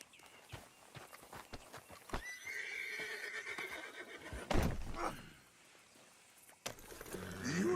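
A horse in Red Dead Redemption 2 whinnies loudly mid-clip amid clip-clopping hooves, with a rapid run of hoofbeats at the start and further stepping and snorting toward the end.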